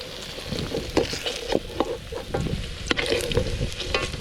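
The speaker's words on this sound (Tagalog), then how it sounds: "ating pritong patatas at saging ang nililan natin" Potatoes and plantain-style bananas fry in hot oil for a puchero dish, giving a steady close sizzle with scattered pops and stirring clatter throughout, no voices.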